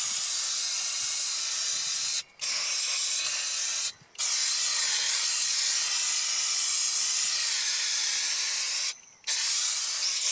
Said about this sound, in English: because we got lots of dirt there, just have to spray that off.